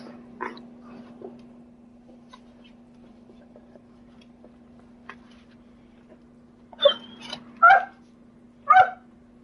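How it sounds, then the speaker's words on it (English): Darla, a pet dog, gives three short, sharp yelping barks close by near the end, after a few faint scattered sounds over a steady low hum. "Yeah, she's just barking for you."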